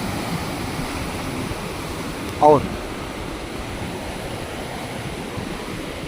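Sea waves wash onto the shore at Kala Pathar beach on Havelock island, a steady broadband surf roar with wind noise throughout; a brief voice cuts in midway.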